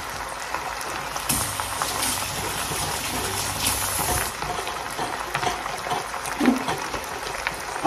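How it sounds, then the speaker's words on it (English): Water pours into a cooking pot of beef short ribs, a moderate, continuous gushing splash that lasts several seconds and then eases into softer trickling and bubbling. "So let's add our water,"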